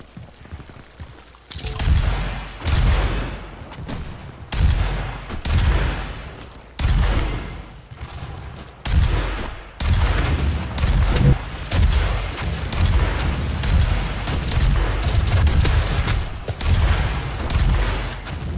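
Repeated shotgun blasts in DOOM multiplayer, loud booming shots arriving every second or two, then merging into a dense continuous barrage of firing and explosions.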